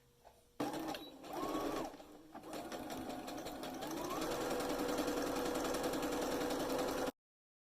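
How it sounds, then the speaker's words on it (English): A sewing machine stitches bias tape onto a garment neckline at a quarter-inch seam allowance, starting with a short burst and then running steadily and close for several seconds before stopping abruptly. "I'm going to start sewing the bias tape onto the neckline using a 1/4 inch seam allowance."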